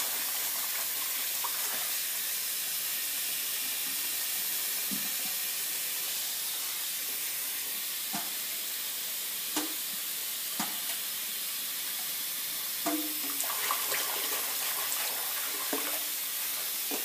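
Mustard greens being washed in a sink of water, with a steady hiss of running or sloshing water and a few brief splashes and clunks as the leaves are swished around, no one talking.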